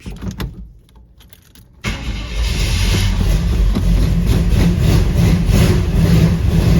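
A carbureted 1979 Suburban, low on fuel, sits quiet for a moment, then its engine catches at about two seconds and settles into a loud, steady running rumble close by.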